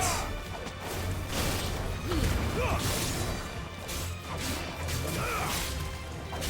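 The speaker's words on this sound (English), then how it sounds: "So here's a judgment bolt" The Judgment Bolt spell strikes in the Final Fantasy XVI video game with dense, roaring crackles and crashing bursts layered over a continuous loud rumble, carrying a few whooshing sweeps.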